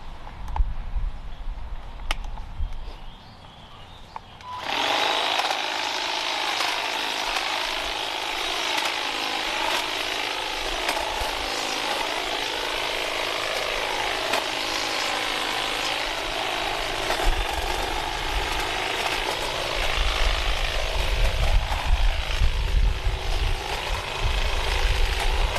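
Toro 60V cordless hedge trimmer cutting through thick overgrown branches along a tree line, a loud steady buzzing whine starting abruptly after a few seconds of quiet and running continuously, close by with no talk.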